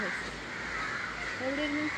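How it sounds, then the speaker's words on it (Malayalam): Crows caw a few times in the open at a beach in Udupi, fairly close, over steady outdoor background noise, with a faint voice underneath. "കാക്കകൾ കരയുന്ന സൗണ്ട് കേട്ടോ"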